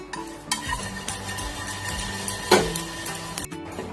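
Whole spices dry roasting in a pan for mutton rezala make scattered scraping and rattling stir strokes, with a few sharper knocks of spoon on metal, fairly close and without voices.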